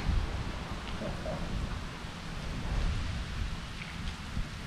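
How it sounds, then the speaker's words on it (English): Heavy rain pouring down while sheltering under a bridge on a paddling trip, a continuous close hiss of rainfall with spattering drops and a low rumble, no talk. "Bloody rainy, though. Pouring down with rain, Lockie."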